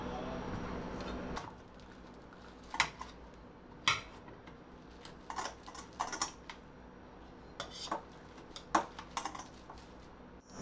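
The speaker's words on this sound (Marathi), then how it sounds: "आता आधी मी केळी मॅश करून घेते" Boiled raw bananas being mashed in a pot for kebabs: scattered light tapping and clacking of a masher against the vessel, irregular and close, over a faint steady background hum.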